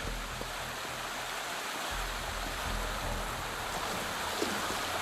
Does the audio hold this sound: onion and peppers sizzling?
no